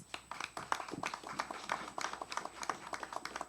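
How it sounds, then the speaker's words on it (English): A small audience claps at a business pitch event, the individual claps sharp and fairly quick, fading and picking up again in loose bursts at moderate distance. "Let's give her a round of applause"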